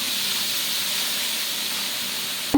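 Dal simmering in a pot on a stove, giving a steady, close hiss of steam and bubbling throughout, with a sudden knock near the very end.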